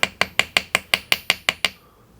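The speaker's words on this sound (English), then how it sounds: "And then I'll take my little chasing hammer" Little chasing hammer tapping metal leaf on an anvil while forging a calla lily ring: nine sharp, bright metallic taps in a steady, even rhythm, close and clear, then stopping.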